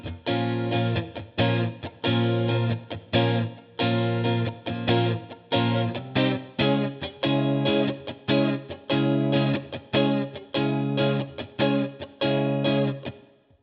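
Distorted electric guitar strums chords in a rhythmic pattern, repeated bursts shifting upward in pitch in a chord climb, loud and processed with effects, playing a song.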